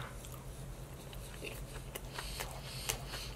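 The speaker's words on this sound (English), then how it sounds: "This is the crunch, I think. Tempura crunch something." Close crunching bites into a crispy tempura sushi roll, with irregular crackles and soft chewing between them, quiet and without talk.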